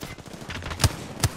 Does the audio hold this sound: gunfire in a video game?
yes